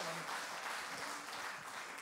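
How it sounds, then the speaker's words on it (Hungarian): Brief, faint applause from an outdoor summer evening concert crowd in Cegléd greeting the band, a soft continuous wash of clapping lasting only a couple of seconds. "ezzel a csodálatos zenekarral egy hatalmas tapsot nekik"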